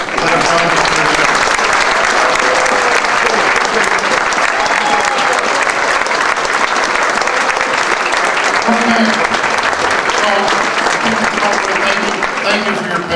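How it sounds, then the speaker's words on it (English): Sustained audience applause honoring mothers at a Mother's Day event at the Irish American Heritage Center in Chicago, loud and dense throughout, with a steady wash of many hands clapping at once and crowd murmur mixed in. "let's have a round of applause for all the mothers that have joined us today"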